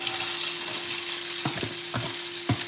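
Onions, pimento, carrot and scotch bonnet peppers for Escovitch sauce sizzle loudly and steadily in hot oil, with a few dull knocks of stirring near the end.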